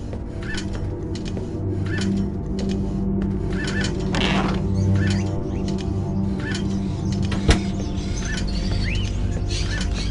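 Birds in the video game Fahrenheit give repeated small chirps and tweets over a steady low mechanical hum, with one sharp click near the end.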